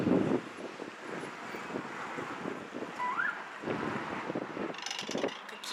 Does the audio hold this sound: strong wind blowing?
yes